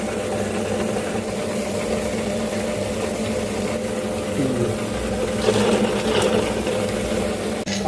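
A mixer grinder churning dried chillies for murukku dough runs as a steady, continuous mechanical drone with a faint whine, holding an even level throughout without pause.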